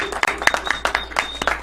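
Clapping in the Brazilian Chamber of Deputies during a heated debate, a quick run of sharp, close hand claps with a faint voice in the background.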